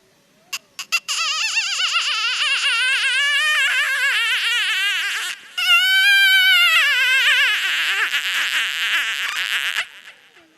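A man on a comedy stage imitates a crying baby, producing loud, wavering wails in long sustained bursts with a short break in the middle, after a few brief sharp sounds at the start.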